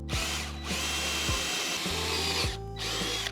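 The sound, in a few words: drilling a hole in a house wall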